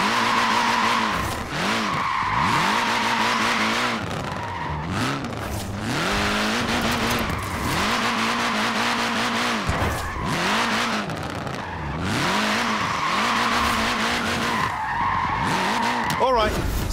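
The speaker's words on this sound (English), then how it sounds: "Short wheelbase, front wheel drive. It's really not an easy car to slide" A short-wheelbase, front-wheel-drive car slides in Forza Horizon 4, its engine revving hard and rising and falling in repeated swoops as the tires squeal continuously, loud and close throughout.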